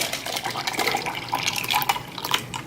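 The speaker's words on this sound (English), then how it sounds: "So I just pour it into my little insulated cup." Iced tea with strawberries pours into an insulated cup, a moderate liquid trickle with little splashes and gurgles that come and go over a few seconds, with no talking.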